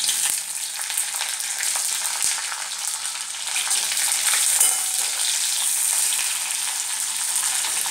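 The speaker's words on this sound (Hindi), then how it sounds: "शिमला मिर्च प्याज सबको एक साथ फ्राई करेंगे।" Chopped capsicum and onion frying together in hot oil in a pan for chilli chicken, a steady loud sizzle with crackling throughout and occasional stirring scrapes.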